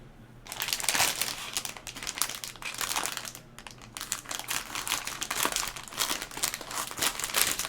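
Plastic bags of LEGO pieces being handled and opened at a table during a Batmobile build, producing close, loud crinkling and rustling in irregular bursts with brief quieter pauses, without any talking.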